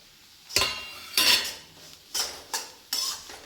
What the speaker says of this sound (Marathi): यातच आपल्याला ड्रायफ्रूट्स भाजून घ्यायचे आहे